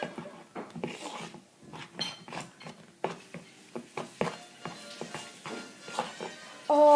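Snowflake crunchy slime being mixed by hand, giving close, quiet crackling and clicking squishes in an uneven rhythm, with a brief tonal sound at the very end.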